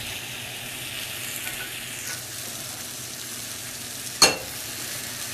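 Beef fajitas with mushrooms sizzle steadily in a hot pan, a continuous close frying hiss with one brief sharp clatter near the end and no talking.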